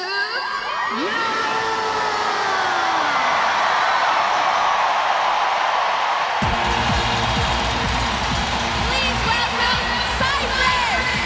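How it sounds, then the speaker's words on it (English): Huge stadium crowd at the Glasgow 2014 Commonwealth Games opening ceremony roaring and cheering continuously, with whoops and shouts over a dense wall of noise; a deep rhythmic musical beat joins partway through. "the crowd is going what we call bonkers"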